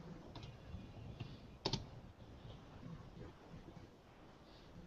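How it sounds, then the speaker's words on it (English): Typing on a computer keyboard during a tabletop campaign session, a few scattered clicks and one sharper keystroke cluster, faint under steady microphone wind and room noise. "Why am I typing?"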